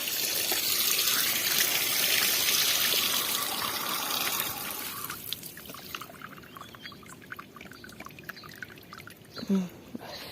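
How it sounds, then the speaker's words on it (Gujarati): Water pouring and flowing out steadily at an old village house, a continuous splashing gush that eases into a lighter trickle partway through, with scattered small knocks and voices in the background. "આ જો પાણી એમ જ જાય છે જો નીકળી જાય છે"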